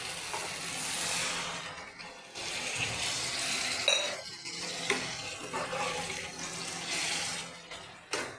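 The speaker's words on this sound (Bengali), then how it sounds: "এবার আমি জল দিয়ে দিচ্ছি।" Water pours into egg curry with green peas in a hot pan, a steady rushing hiss with sizzling that surges and fades over several seconds, close and without talk.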